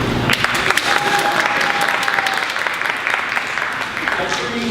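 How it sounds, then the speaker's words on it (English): An audience at a live juggling and sideshow stunt performance claps loudly in a vote for more juggling, a dense sustained round of applause with a few whoops and voices mixed in. "By applause, how many people would like to see some more juggling?"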